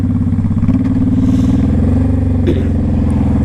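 A 2005 Honda Shadow Sabre 1100 V4 motorcycle being ridden, its engine a loud, close, steady low rumble that pulses evenly throughout, with no talking.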